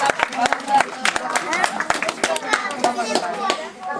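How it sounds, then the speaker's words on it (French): Applause from a small audience at a Christmas theatre show, scattered claps rising and falling steadily, with voices chattering underneath. "Oui, bravo, on peut l'applaudir."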